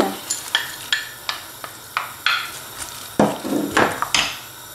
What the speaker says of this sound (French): je laisse colorer dans un premier temps mes oignons et mon ail pendant 5 minutes jusqu'à coloration.